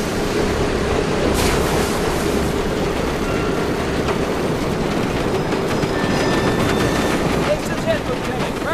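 Train rumbling along rails during a Medal of Honor: Above and Beyond mission, a dense, continuous, loud roar with faint metallic squeals and clatter running throughout.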